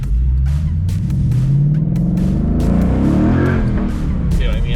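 A Mazda Miata fitted with a Ford 5.0 Coyote V8 pulling hard, its deep engine note climbing steadily in pitch as it accelerates, heard from inside the car with a voice speaking over it.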